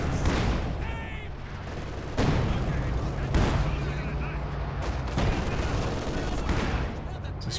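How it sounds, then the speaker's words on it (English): Artillery barrage in the Company of Heroes 2 strategy game during a 1v1 match, repeated heavy booming shell impacts and gunfire crackle in dense succession, with a commentator's voice running under it. "This barrage doing a good job forcing back that machine gun."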